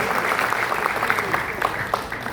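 A live audience at a talk on transformative leadership breaks into steady applause, dense crackling clapping filling the room at moderate loudness with no voices over it.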